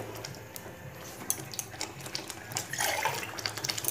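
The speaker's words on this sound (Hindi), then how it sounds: "जितना पालक का पानी था मैंने सारा डाल दिया।" Spinach water pours and splashes into a pan in a short burst, with clinking and scraping kitchen sounds around it, close by.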